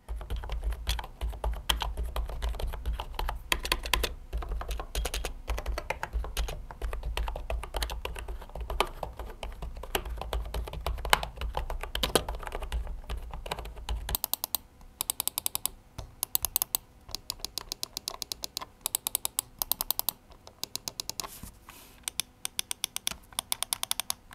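Rapid, soft keystrokes on a quiet Everest Round KM-6282 wireless membrane keyboard, continuous and fairly muted, with a brief change in tone partway through as the typing continues.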